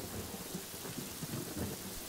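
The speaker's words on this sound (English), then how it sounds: "Wow, it's really raining." Steady rain pours with low rumbles of thunder in the game Yonder: The Cloud Catcher Chronicles, a continuous, fairly even storm wash with no voices.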